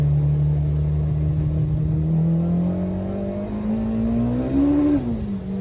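A K-swapped Mini Cooper accelerates hard through third gear, its engine note climbing steadily in pitch as the wheels begin to spin near the top of the gear, then dropping off sharply at the end; loud, close and with no talking.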